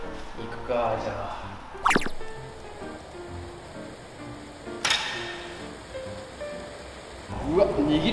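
Rain falls steadily outdoors around a kyudo archery practice area as a soft, continuous hiss under the scene, broken by a couple of sharp louder hits, with people talking at times.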